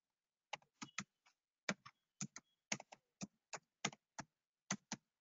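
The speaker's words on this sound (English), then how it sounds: "I'm typing in right now." Quick bursts of keystrokes on a computer keyboard, a dozen or so sharp clicks in uneven clusters, close and fairly quiet in an otherwise silent room.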